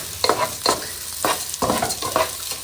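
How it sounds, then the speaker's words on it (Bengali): Rice being stirred and fried in a pot: a spoon scrapes the bottom in five or six rhythmic strokes over a continuous close sizzle. "বারবার নেড়ে চেড়ে দিতে হবে যাতে নিচে লেগে না আসে বা পুড়ে না যায়"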